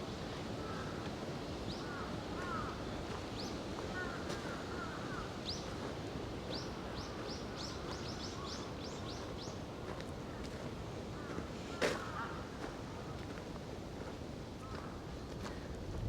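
Wind rumbles and buffets steadily outdoors in a Tokyo Japanese garden in winter while crows caw in short bursts at a distance.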